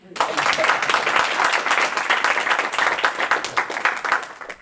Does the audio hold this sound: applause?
yes